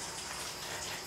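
Water gushes strongly and steadily from a lavatory faucet in a campsite restroom, a constant broadband hiss filling the short stretch with no voices.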